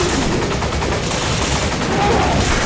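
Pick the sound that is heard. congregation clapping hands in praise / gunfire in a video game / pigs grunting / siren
gunfire in a video game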